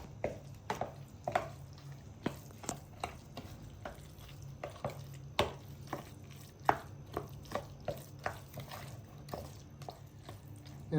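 Steady rhythmic scraping and tapping of a utensil working through a thick walnut çiğ köfte sauce in a bowl, close and fairly quiet, repeating about twice a second.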